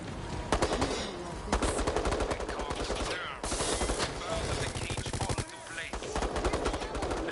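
Rapid automatic gunfire from the video game Resident Evil Resistance, dense bursts of shots nearly continuous with brief pauses, loud and busy with overlapping game effects.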